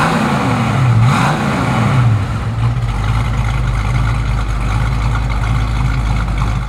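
A 1969 Ford Mustang Mach 1's V8 engine cranks and catches, then settles into a loud, steady, rumbling idle with a deep lumpy throb.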